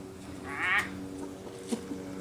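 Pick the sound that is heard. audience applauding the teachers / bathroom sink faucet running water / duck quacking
duck quacking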